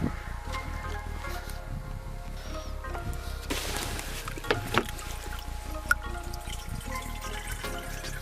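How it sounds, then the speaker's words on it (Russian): Spring water trickling and splashing steadily as it is collected outdoors, a continuous close wash of running water with a few sharp drips and clinks on top. "В данном случае нашли родник, воду наберем и поедем дальше."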